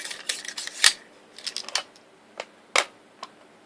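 Stainless steel USGI-style M16 magazine forced into a rifle magazine well, a string of sharp metallic clicks and scraping clacks at uneven intervals, close and fairly quiet, with no speech.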